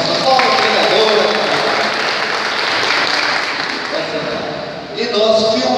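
Church audience applauding to welcome a new preacher, a sustained dense clapping roar from a nearby crowd with a voice rising through it near the end.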